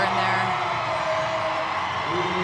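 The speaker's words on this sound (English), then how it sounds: "the crowd is going wild for Lexi Rodriguez" A crowd at a women's professional volleyball match in Omaha cheers and whoops loudly and continuously, a dense roar filling the arena, with a commentator's voice over it.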